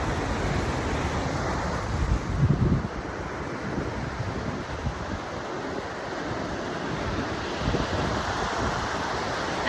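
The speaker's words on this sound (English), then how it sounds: "See how beautiful the water is? So amazing. But for me, I don't want to get in the water today because it's kind of rough" Rough ocean waves breaking at a beach, a steady loud wash of surf mixed with gusting wind buffeting the microphone, with no voices.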